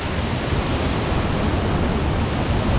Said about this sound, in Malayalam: കിടിലം പോലത്തെ വാട്ടർഫാൾസ് കേട്ടോ